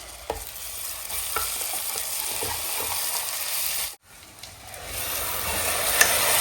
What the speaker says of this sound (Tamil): இப்போ இஞ்சி பூண்டு பேஸ்ட் வந்து சேர்த்துக்கிறேன்.